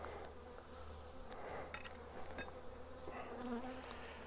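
Honeybees buzz steadily at a hive entrance in Provence as foragers return carrying pollen. A dense, close, continuous hum runs throughout, with nearby wingbeats rising and fading.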